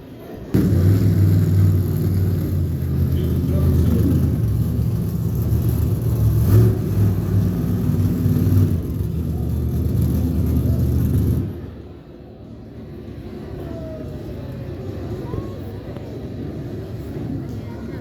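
Monster trucks racing at a small-town fairgrounds in Bath, New York, with a loud rumbling, revving engine roar for about eleven seconds before it cuts away to a quieter, distant murmur.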